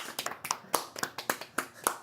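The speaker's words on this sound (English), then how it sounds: "sure, we can clap" A few people in a podcast studio clap sparsely and unevenly, with distinct close hand claps in an irregular rhythm and quiet pauses between them.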